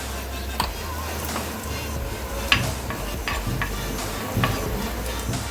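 Asafoetida dropped into hot oil with crackled cumin seeds for Kashmiri dum aloo, a continuous close sizzle with a few light spoon taps and scrapes against the pan, no talking.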